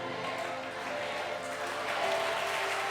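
A church congregation at a Sunday service claps and cheers together, producing dense, sustained applause with crowd noise and raised voices throughout.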